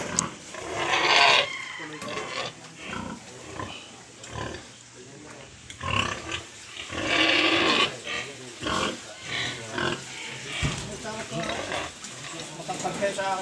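Mother sows on a Bulacan pig farm grunt and squeal in repeated bursts, fairly close and loud, mixed with other livestock noise while people talk nearby.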